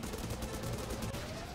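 Gunfire in the helicopter rescue game Dustoff Heli Rescue 2 on Nintendo Switch comes as a faint, rapid burst of shots over a dense, steady game soundscape.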